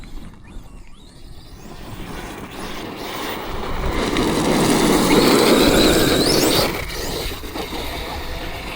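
An Arrma Outcast 8S EXB V2 RC car runs loud and close, its motor and tires building into a sustained roar that peaks mid-run, pulling wheelies, then drops off sharply near the end.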